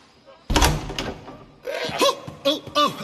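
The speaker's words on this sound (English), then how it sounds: "Open this door or I'll kick it in!" A door is forced open with a heavy kick in Assassin's Creed Odyssey, a sharp close thump with rattling followed by a voice talking.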